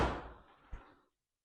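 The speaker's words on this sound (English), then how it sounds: "Well, I do see the door not closing properly." A C3 Corvette door being closed after an alignment adjustment gives a single muffled thunk with a short rattle, close by and brief.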